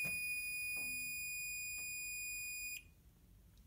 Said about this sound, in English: as you can see, the smoke detector is activated